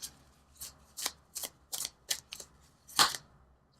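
Tarot cards shuffled and drawn in a quiet room: a series of crisp papery riffles and snaps at a steady, slightly uneven rhythm, close and fairly soft, with one louder flick near the end.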